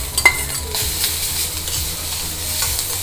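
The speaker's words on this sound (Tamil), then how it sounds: "ரைஸை கலந்துடலாம்." Cooked rice with pepper powder, salt and neem flowers is mixed in a pan just off the heat, producing a brief, close sizzle with a couple of sharp spoon clinks at the start; no speech.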